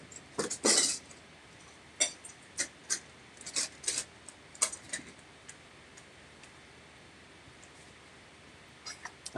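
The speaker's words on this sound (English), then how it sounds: "I have all these little trays everywhere, and they make a lot of noise." Small plastic trays clink and tick while trading cards are handled, a cluster of bright taps early on and then scattered light clicks with quiet gaps between them, close and fairly faint.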